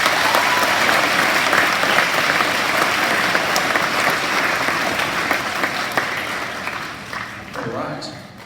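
An audience at a school assembly claps warmly for families, a dense sustained round of applause that gradually thins and fades toward the end.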